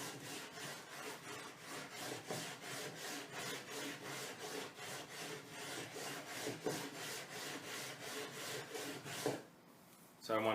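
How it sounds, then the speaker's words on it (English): Wooden bo staff being burnished by hand, pressed down and drawn along the clamped wood in steady repeated rubbing strokes, about three per second, close and fairly quiet, ending with a brief clatter. "I'm going to lightly press down on the wood and draw it towards me"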